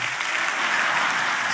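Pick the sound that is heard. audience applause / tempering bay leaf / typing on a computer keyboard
audience applause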